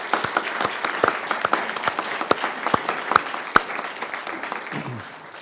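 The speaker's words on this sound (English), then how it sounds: "And so I'd like to give Bill a round of applause, even though he's not here." A room full of people at an award ceremony applauds steadily, dense clapping that holds for several seconds before starting to fade at the end.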